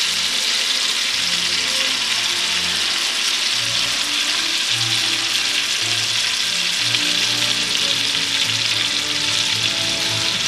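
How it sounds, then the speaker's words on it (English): Meat frying in a frying pan with salt and black pepper, searing for golden colour: a steady, loud broadband sizzle runs throughout, with low scraping and shifting sounds underneath and no talking. "my frying pan here, because I want to give it some nice golden color"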